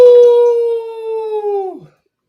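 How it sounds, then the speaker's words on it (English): A single long, loud howl rings out alone, holding a steady pitch for nearly two seconds before bending downward and cutting off. "Love hearing a howl first thing in pick'ems."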